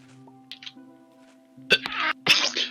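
A person sneezes twice in quick succession, close and loud, over quiet tones from a Minecraft game in the background.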